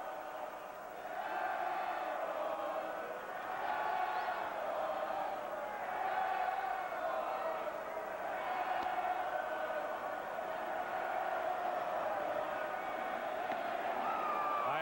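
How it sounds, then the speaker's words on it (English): Baseball stadium crowd at a Yankees–Red Sox game in Boston, chanting at the batter Giambi, a broad steady roar of many voices with rising and falling swells, moderately distant, with no talk over it. "I have just heard my first Balco chant of the season."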